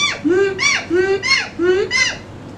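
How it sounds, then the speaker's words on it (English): Loud, close donkey braying in three or four rhythmic cycles, alternating a low inhaled groan with harsh, high honking blasts. "Yes, it's a donkey."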